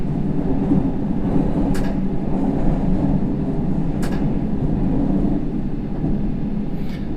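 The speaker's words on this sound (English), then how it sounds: "Dragging the tail end of the train through the points, and then we'll start that acceleration up to 25." A London Underground Circle line train in the World of Subways game rumbles steadily as it runs through points, a continuous low rolling roar with a few brief sharp clicks from the wheels crossing the pointwork.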